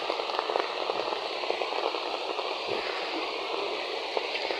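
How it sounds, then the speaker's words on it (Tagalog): Rushing river water in Lagting, a steady broadband roar of flowing current, moderately loud and continuous with small splashy crackles throughout, no talk. "Naririnig na natin yung ragasa ng ilog na isa."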